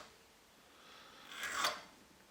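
A hand file reprofiles the bottom of a firearm extractor claw, giving a couple of short, close rasping strokes over faint background hiss, with no talk.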